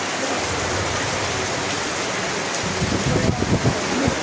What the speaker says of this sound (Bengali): বৃষ্টির আওয়াজটা তোমরা এখনো শুনতে পাচ্ছ তো?